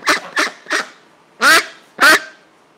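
A duck quacks five times, three short quacks followed by two louder, harsher ones, close and loud with brief pauses between.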